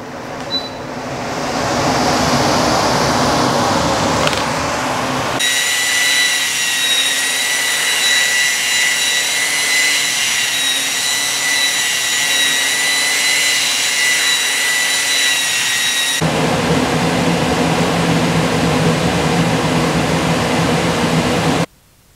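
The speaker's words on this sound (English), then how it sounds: "turn our machine on and do the second part of our" A Laguna Supermax air filtration machine runs with a loud, steady fan roar and a high whine, a continuous close drone that shifts in tone partway through before settling back.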